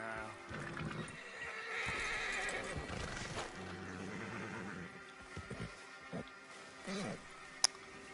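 Horse in a PS4 video game neighing loudly, followed by scattered clip-clop hoofbeats and a few short thuds, with no talking over it.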